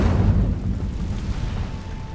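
Incendio fire spell burst in Hogwarts Legacy: a loud, deep whooshing blast at the start that rumbles on and slowly fades.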